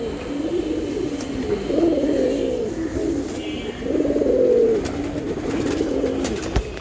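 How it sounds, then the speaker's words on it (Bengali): A pair of Babu pigeons coo close by in soft, rolling bursts, several throaty phrases rising and falling one after another with brief pauses, no talking over them. "কবুতরের কথা বলতেছে"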